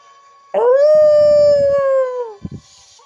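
A single long, mournful dog howl, loud and close, holding a steady pitch before sliding down and trailing off, followed by a couple of soft thumps.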